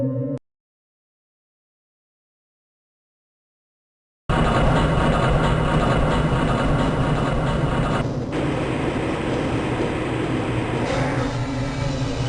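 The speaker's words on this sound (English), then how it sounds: "This train is inbound from the Area 8 topside dormitories to the Central Transit Hub in Area 9." Silence gives way to a loud, steady rumble and rattle from the Black Mesa transit train in the game Half-Life Blue Shift, running continuously with slight shifts in the clatter.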